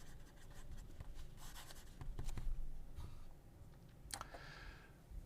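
An Admok M800 fountain pen signs a page, giving soft, close scratching strokes of the nib on paper in short quick bursts, faint and quiet, with a small click near the end.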